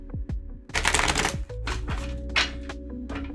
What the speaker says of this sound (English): so that needs another shuffle.